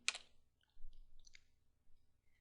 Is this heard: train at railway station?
no